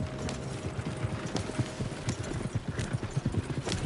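Horses gallop hard in Red Dead Redemption 2, a steady rapid clip-clop of hooves running on through the whole stretch with no talk, loud and close.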